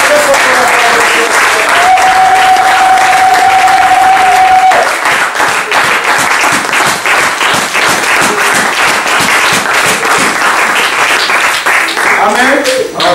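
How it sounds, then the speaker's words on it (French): Loud, sustained applause and cheering from a church congregation, dense clapping filling the whole stretch without a break, with voices mixed into the crowd noise. "Est-ce qu'on peut vraiment acclamer très fort pour la gloire de Dieu?"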